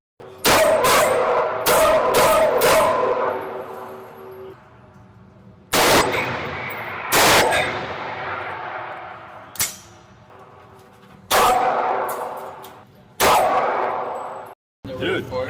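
Guns fired at a shooting range in Texas: loud sharp reports come in bursts, some rapid strings of shots and some single blasts, each ringing out with a long decaying tail, and short silent gaps fall between volleys.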